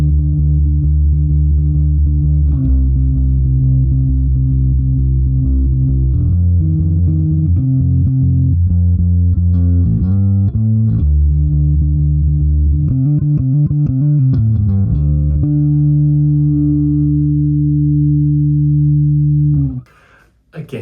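Custom Pango Music kit electric guitar on the neck pickup, low synth-like processed tone, a sequence of sustained notes and quick runs played alone, ending with a long held note that cuts off.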